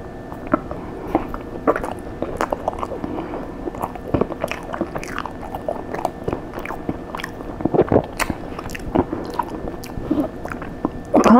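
Pizza Hut pizza is bitten and chewed up close for an ASMR mukbang, with steady, moist, squishy chewing and occasional soft crunches running continuously.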